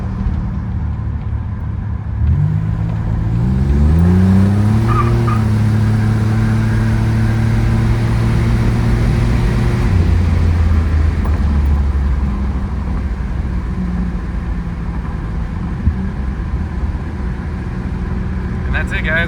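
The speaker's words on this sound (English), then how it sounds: "Gonna slow down here and try to get another little second gear hit." A 1985 Buick Grand National accelerates hard in second gear, the engine note climbing steeply for several seconds inside the car before easing off to a steady cruising drone, with a voice speaking over it.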